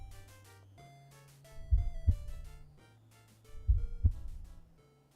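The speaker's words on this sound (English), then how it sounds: "Why was there like a heart beating sound effect?" A heartbeat sound effect plays over soft, slow synthesized tones in a webcomic: two deep double thumps about two seconds apart, the beats standing out loud and close against the gentle melody.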